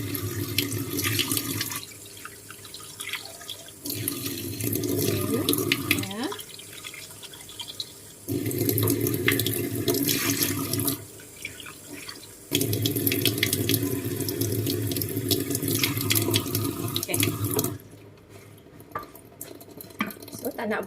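Hot water from a kitchen tap running into a sink to rinse dried shrimp, flowing in several long bursts separated by short pauses, with splashing and faint clatter of dishes, and a voice talking over parts of it.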